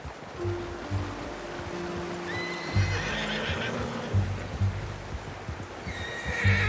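A horse whinnies loudly in the video game Red Dead Redemption 2 over a steady backdrop of hooves and ambient noise, with a second neigh rising near the end.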